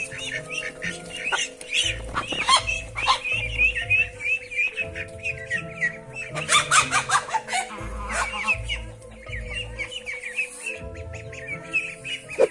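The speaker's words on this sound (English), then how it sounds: "This rooster was used to ruling the, roost until he crossed paths with an equally dominant goose." A rooster clashes with an equally dominant goose, filling the air with repeated loud squawks, clucks and flapping bursts, with sharp cries peaking in several agitated flurries.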